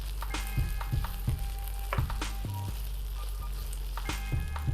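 Vegan taco filling fries and cooks down in a pan, a steady sizzle broken by a few clatters and scrapes, with no talking.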